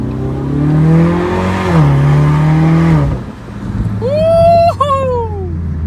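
Cars in road traffic during a stuck-in-traffic drive, a steady engine and road hum throughout, with a voice talking over the first half and sliding tonal sounds near the end.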